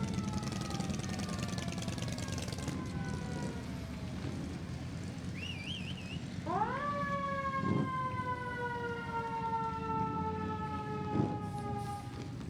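Fire engines in a Veterans Day parade in Porterville sound their sirens. A wailing siren rises and falls at close range, followed by a rising mechanical wail with horn blasts over engine rumble and crowd noise.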